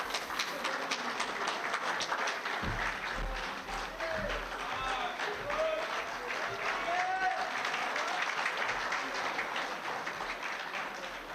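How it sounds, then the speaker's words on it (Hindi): Applause from an audience welcoming a guest onto the stage at a news team award ceremony, a dense, steady clatter of many hands that continues throughout at a fairly loud level. "जोरदार तालियों से स्वागत करें गुरप्रीत सिंह जी का"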